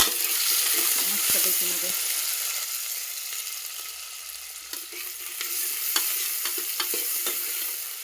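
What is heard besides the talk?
green chilies frying in oil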